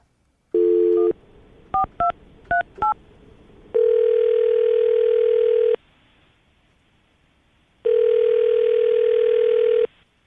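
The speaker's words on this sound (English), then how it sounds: "We get her on the phone." A landline phone rings out on a morning radio call-in show: dial tone, a quick run of touch-tone dialing beeps, then two long, loud, steady ringback tones separated by silence, with no voices.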